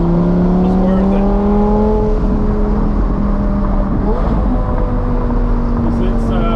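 A car fitted with a Top Speed Pro1 race pipe and the muffler deleted, its exhaust droning loud and close with rising, falling revs and a deep raspy tone throughout.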